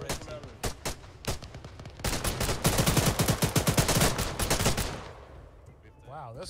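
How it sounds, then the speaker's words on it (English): Bursts of grease gun fire in ArmA 3, starting as scattered single shots, then a dense rapid automatic stream, loud and close, before fading out with faint voices near the end. "this grease gun's putting in go work"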